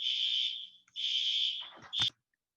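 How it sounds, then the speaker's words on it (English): A fire alarm blares near and loud in a lecture setting, sounding in three steady bursts separated by short gaps, the last burst brief and cut off abruptly. "we're still on fire alarm alert"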